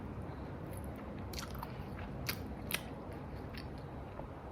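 Biting and chewing a boiled egg dressed in chili oil: a few soft, crunchy bites and moist chewing, faint and close over a low steady background, with no talking.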